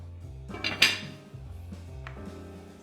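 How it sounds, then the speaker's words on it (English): A metal lid clanks onto a stock pot of pho broth with a single bright hit, then settles with a soft rattle against the kitchen's background hum. "You tie this, goes into the stock pot, lid on"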